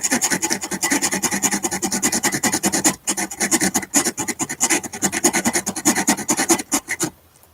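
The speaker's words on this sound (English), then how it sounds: "a backing for the piece while you're sawing on it" Rough, rasping saw strokes cut wood during repair of a parlor guitar from about 1890, in a fast steady rhythm, close up, pausing briefly partway through before resuming and then stopping.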